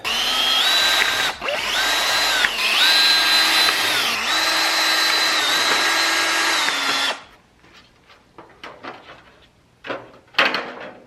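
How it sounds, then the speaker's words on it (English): A power drill with a 1/4 inch bit whines loudly in several bursts while drilling holes in a car fender liner, its pitch rising and falling as it bites, then stops, followed by light clatter and handling noises. "all I gotta do is drill out the holes"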